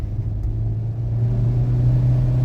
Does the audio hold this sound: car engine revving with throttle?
yes